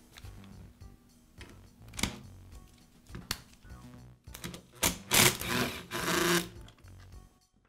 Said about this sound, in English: Now remove the single screw at the bottom of the lower half of the cover.